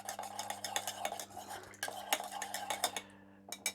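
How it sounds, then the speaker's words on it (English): A bar spoon stirring runny honey in a glass for a honey and ginger daiquiri, a quick run of light metallic clinks and scrapes against the glass, close and steady, stopping briefly near the end before a last tap. "Give that a little stir."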